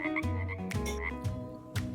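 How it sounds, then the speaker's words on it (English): Frogs croaking at a park pond, a close chorus of repeated throaty croaks in an uneven rhythm, loud and clear with no voices. "frogs should come naturally to these areas"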